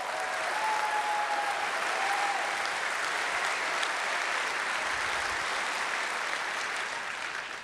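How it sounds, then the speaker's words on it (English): A crowd at a Long Beach public event applauds a family, a continuous, even wash of clapping heard at a distance for nearly eight seconds, with a faint whistle near the start. "let's give them a round of applause"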